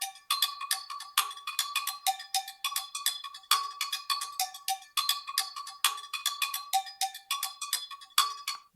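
A sampled percussion loop in a music production plays bright, metallic cowbell-like hits in a fast, steady repeating pattern, clean and up front, with no talking.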